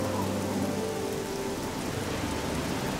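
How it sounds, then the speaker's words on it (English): Rain pours in The Elder Scrolls video game near Chorrol, an unbroken loud hiss of drops on the ground with a low steady rumble beneath and no speech. "Let's get out of this rain."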